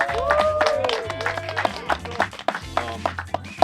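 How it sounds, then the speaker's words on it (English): Applause from an outdoor-show audience, dense clapping running throughout under overlapping voices and background music, fairly loud and close. "Can we get a round of applause, please?"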